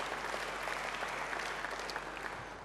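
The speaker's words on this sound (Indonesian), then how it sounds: "Beri tepuk tangan yang baik bagi dia." A church congregation applauds during a sermon, a steady wash of fairly faint clapping heard from a distance over a low background hum.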